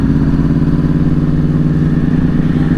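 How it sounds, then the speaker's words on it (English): Motorcycle engine idling and lugging at low speed behind a slow semi truck, a close, loud, steady throbbing rumble with a fast regular pulse and no talking. "This bike does not like to go slow."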